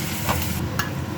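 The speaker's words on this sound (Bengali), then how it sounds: "এখন ভাজা চলছে বেরেস্তা" Sliced onions fry in hot oil in a home kitchen for beresta, giving a brief, steady sizzle with a couple of soft stirring scrapes.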